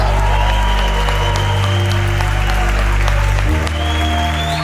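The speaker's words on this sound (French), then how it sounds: "Je pense que pour César, on va faire un tonnerre d'applaudissements à César." An audience at a Paris Nuit Blanche arts evening breaks into a thunderous, sustained round of applause, loud and dense throughout with no talking.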